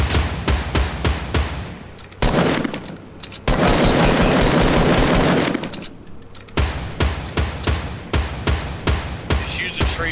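Rapid bursts of automatic gunfire in a Fortnite match, sharp repeated shots in quick rhythmic runs with a long sustained volley in the middle, loud and close, with no talk over it.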